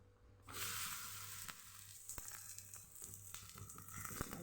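Masala rotlo flatbread sizzles steadily on an oiled griddle, a close, continuous frying hiss that starts suddenly and holds at a moderate level with a few small pops.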